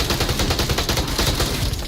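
Rapid gunfire from a competitive VR shooter match, dense overlapping bursts of shots crackling continuously and loudly with no pause, in a noisy game mix.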